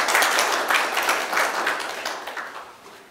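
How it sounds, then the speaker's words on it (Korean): Audience applause follows a presentation at a local autonomy development forum, a steady wash of many hands clapping that gradually thins and fades over a few seconds, with no talk over it. "다시 한번 뜨거운 박수 좀 부탁드리겠습니다"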